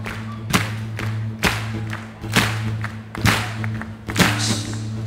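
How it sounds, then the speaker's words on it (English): A concert crowd at a show in Stockholm claps along in a steady rhythm, loud thudding claps repeating about once a second over a low hum of the hall. "Do a clap like that."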